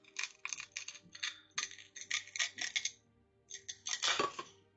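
Cutting a terrain tile piece for a Star Wars spaceport model, a run of close, crisp scraping and clicking cuts in quick bursts with a short pause before a louder final stroke.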